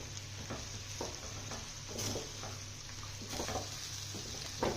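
Coriander powder and coconut stirred in a frying pan, with a steady sizzle under repeated soft scraping strokes of the spoon, close and fairly quiet, with no talk.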